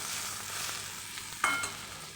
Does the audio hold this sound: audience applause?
no